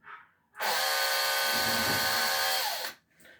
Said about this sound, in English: spin your drill